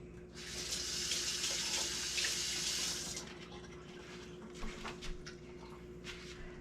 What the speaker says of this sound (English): Let me get my hand washed.